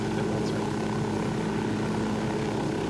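A helicopter in Ghost Recon Wildlands roars steadily with a dense, loud rotor and engine drone that stays constant and close throughout, with no voices.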